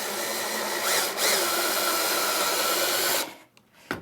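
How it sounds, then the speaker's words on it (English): A step drill bores into a cabinet face during a CompX regulator lock install, its loud steady whine running close and continuous for about three seconds before cutting off abruptly, followed by faint handling clicks. "All you do is take a step drill, and you just stick this bad boy in"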